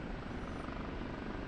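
OH-58D Kiowa Warrior helicopter in the DCS flight simulator, a steady, moderately quiet rotor and engine drone that holds unchanged throughout, with no talk.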